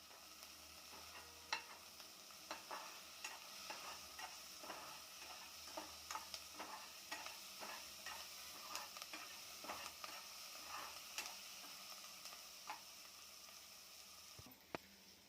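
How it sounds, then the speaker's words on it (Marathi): Onion with salt frying in a pan for a spiced vegetable dish, a steady sizzle with repeated stirring clicks and scrapes throughout, fairly close and alone without talk. "मसाल्याच्या भाजीला कांदा हा लाल भाजला पाहिजे"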